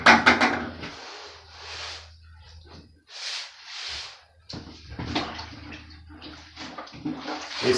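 Water from a tap runs in bursts while grout is rinsed off tile, gushing on and off with pauses between, close and fairly loud, along with small clattering handling noises.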